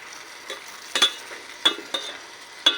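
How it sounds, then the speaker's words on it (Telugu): A spoon stirs and scrapes through a pan of dried prawn and cucumber curry with masala powder, giving several sharp clinks and soft sizzling in an uneven rhythm, fairly close. "ఒక చిన్న స్పూను మసాలా పొడి వేసేసుకోండి ఇప్పుడు వీటన్నిటిని కలిసేలాగా కలిపేసి"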